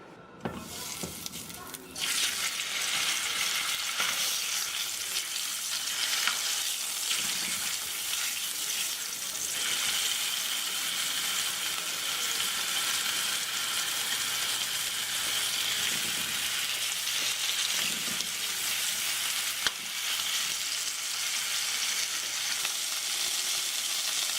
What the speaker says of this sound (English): I've salt and peppered some steaks, and I'll put those on here in a minute.